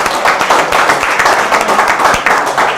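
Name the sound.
applause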